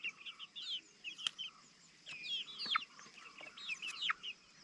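Chickens cluck and squawk in scattered, quiet bursts at a farm setting, somewhat distant, with brief pauses between calls.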